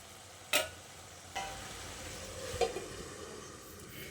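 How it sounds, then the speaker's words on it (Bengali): Ridge gourd and potato being stirred in a pan with the lid lifted, a soft background sizzle broken by a few scattered scraping and clinking knocks of the spatula. "দেখুন, মাঝে মাঝে ঢাকাটা খুলে আমি এইভাবে ঝিঙে আলুটাকে নেড়ে চেড়ে নিচ্ছি।"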